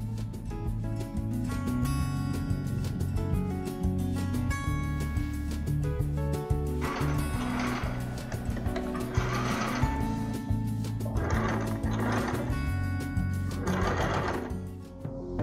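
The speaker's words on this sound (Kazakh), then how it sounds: "Енді бұны қайтарып тігісімізді жауып шығамыз осылай." A sewing machine runs steadily for the whole span, stitching fabric to close a seam on a curtain, a loud continuous mechanical whir with a regular needle clatter and brief pulses of louder running.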